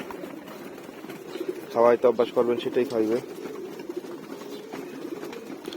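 Pigeons being fed paddy grain, a short burst of soft cooing close by, partly overlapping someone talking over a quiet background.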